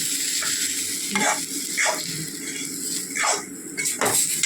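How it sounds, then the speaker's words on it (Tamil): Chili powder with ginger garlic paste frying in a pan for Chettinad vanjaram fish kulambu: a loud, steady sizzle broken by repeated scraping stirs of a spoon against the metal, no voices. "இஞ்சி பூண்டு பேஸ்ட்டு, இஞ்சி பூண்டு போட்டு எல்லாத்தையும் நல்லா வதக்கிக்கணும்"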